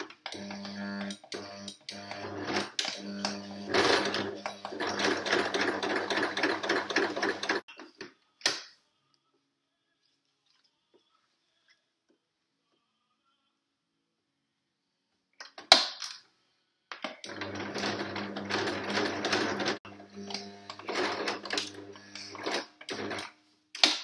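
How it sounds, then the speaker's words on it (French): A sewing machine stitching a fabric bandana for a dog or cat, running in a steady fast rattle for several seconds, then stopping for a long quiet gap before a brief clunk and a second stitching run. "Voilà, donc ma couture est faite."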